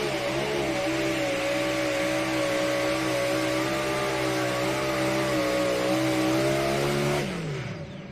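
Pulling tractor at a tractor pull event, its engine roaring loud and sustained with steady harmonic revving, holding high for about seven seconds before the pitch sweeps down and the roar fades.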